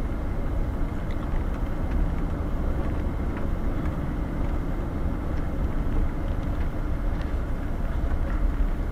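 A loud, steady low rumble with rhythmic clattering runs unbroken throughout as a Coast Guard train rolls past close by in Wyoming, with no voices.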